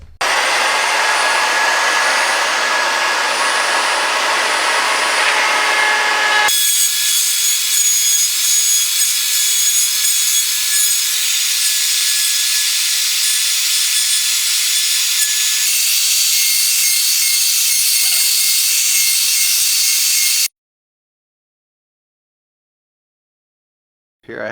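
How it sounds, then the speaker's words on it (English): A power saw cuts through the worn threaded end of a wooden croquet mallet piece, a loud, steady whining rasp lasting about twenty seconds that shifts pitch partway through before stopping abruptly, followed by silence. "So I'll just cut this part off and start over with the router raised up a little bit."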